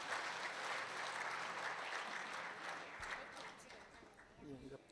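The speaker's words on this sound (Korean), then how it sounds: "뜨거운 박수 부탁드립니다." An audience at an agricultural outlook presentation in a Korean hall applauds with dense, steady clapping that carries on for several seconds, slowly thinning toward the end, with a voice faintly heard beneath it.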